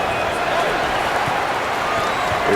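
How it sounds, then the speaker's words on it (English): In a college basketball video game, a simulated arena crowd roars loudly while a player attempts a three-point play. The dense, constant wall of noise holds steady from start to finish. "Crowd's trying to distract him, getting real loud."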